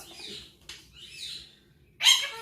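A pet bird calls out in a home kitchen during baking, giving a few drawn-out chirping calls and then a sharper, louder squawk near the end, with no one talking.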